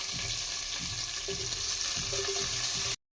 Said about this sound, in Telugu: ఇది ఫ్రై అవుతున్నప్పుడే నేను సన్నగా కట్ చేసి పెట్టుకున్న ఆనియన్ కూడా యాడ్ చేసుకుందాం